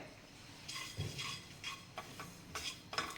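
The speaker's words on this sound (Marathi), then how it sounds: "आपण खसखस भाजून घेऊया. तीही आपण कोरडीच भाजणार आहे." Poppy seeds dry roasting in a pan with no oil, heard as a series of short, dry scraping and rustling bursts from stirring, close up and alone, with brief pauses between strokes.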